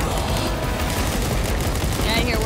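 Rapid gunfire in Warhammer 40,000: Space Marine II fills the scene as sustained, dense bursts of shooting mixed with combat noise, steady and loud throughout with voices faintly in the mix.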